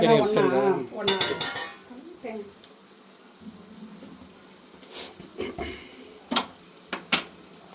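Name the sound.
stirring onion and coconut frying in ghee in pan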